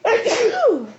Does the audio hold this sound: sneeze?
yes